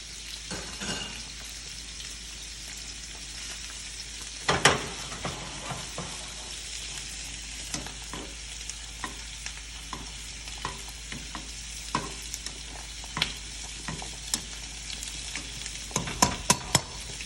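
Shrimp frying in a pan, being cooked almost through: an even close sizzle with scattered small pops and utensil clinks that grow more frequent toward the end, without speech.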